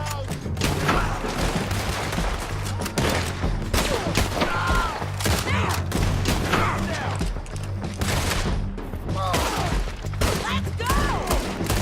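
Gunfire in the video game Red Dead Redemption 2 rattles continuously in a dense, loud fusillade of overlapping shots with battle noise, while a voice shouts briefly over it.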